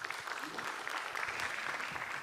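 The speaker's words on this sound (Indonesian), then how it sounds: "tepuk tangan dulu" Studio audience at an Indonesian stand-up comedy competition breaks into steady applause, a dense wash of clapping that holds evenly throughout the short stretch with no voices over it.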